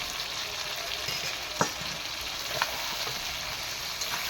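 A pan sizzles steadily as green chillies, onion, garlic and ginger paste fry for a fish curry, a close, even hiss with a few faint stirring clicks and no speech.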